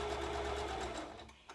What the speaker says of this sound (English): I'm going to sew over it when I get to the corner.